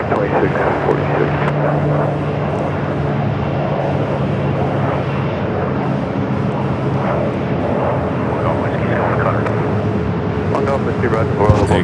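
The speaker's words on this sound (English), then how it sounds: "Delta A330-200 heading to Atlanta, flight 1317, pushing back from Terminal 3" Delta Airbus A330-200 bound for Atlanta pushing back from Terminal 3 at Phoenix Sky Harbor, a steady loud engine and ground-equipment drone with low tonal hum, persisting throughout under occasional radio-like chatter.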